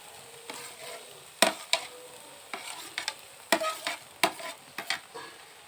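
Vegetables tossed and stirred into boiled noodles in a pan, giving a series of sharp scraping and clattering stirs over a soft, steady sizzle, loud and close, with no talk.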